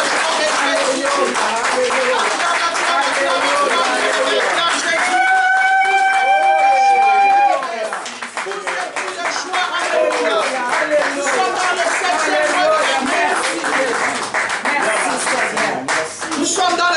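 A church congregation claps steadily and loudly in rhythm while acclaiming Jesus, with voices singing and shouting over the clapping throughout and a brief sustained tone partway through.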